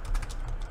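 A computer keyboard is typed on briefly and close, a quick run of soft clicking keystrokes with no voice over it.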